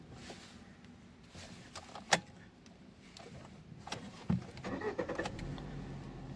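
A Hyundai Aura CNG car engine cranks and catches, a sharp click and brief whir followed by the engine starting and settling into a low idle hum, heard close inside the vehicle with no talking.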